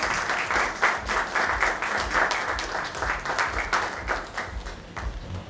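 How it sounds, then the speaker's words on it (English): Applause from a conference audience greeting Sam Balsara, chairman of Madison World, arriving to give a keynote address. Dense, steady clapping from a large crowd fills the hall with no speech over it. "give a huge round of applause for Mr. Sam Balsara, Chairman, Madison World"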